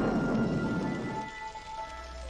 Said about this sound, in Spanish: estamos en pleno aguacerazo.